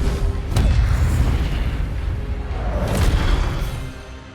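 Incendio fire spell cast in Hogwarts Legacy, a booming fiery blast with whooshing bursts, loud and close, swelling twice in quick succession.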